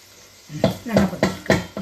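Mustard seeds splutter in hot oil in a kadai, four sharp crackling pops in quick succession over a low sizzle, close and fairly loud.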